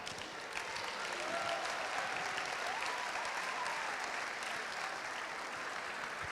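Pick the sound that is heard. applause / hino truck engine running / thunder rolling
applause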